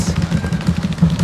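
A rapid, sustained drum roll builds tension before a winner is announced at a campus student quiz championship, the dense stream of quick strokes rumbling steadily and fairly loud for just over a second with no talking over it.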